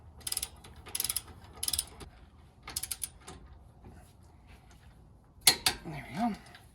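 A wrench works on the tie rod ends of a Jeep JL/JT steering upgrade, tightening them to 75 foot-pounds: short bursts of close ratcheting clicks in small clusters, then a louder metallic clank and rattle near the end.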